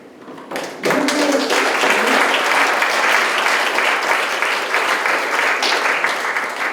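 An audience at a lecture on energy sobriety bursts into warm applause after a brief quiet moment, a dense, steady round of clapping that carries on to the end.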